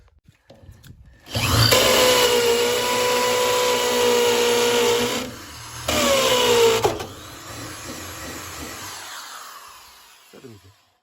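A power drill bores a hole for electrical cables into a beekeeping building, whining loudly in one long burst and then a shorter second burst before spinning down and fading, with no speech.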